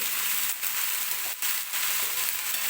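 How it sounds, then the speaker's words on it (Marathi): Spring onion greens sautéed in oil in a pan give a steady, close sizzle with brief stirring scrapes breaking in, and no talk over them. "व्यवस्थित अशी परतून घ्यायची आपल्याला पहिल्यांदा पाक तेलामध्ये"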